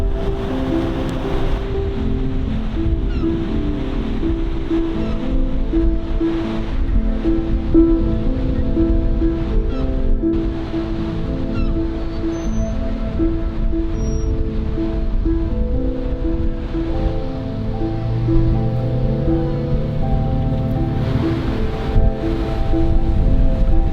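Pacific surf rolls onto a beach in Oregon, a loud continuous wash and rumble swelling in slow surges, with heavy wind buffeting the microphone throughout.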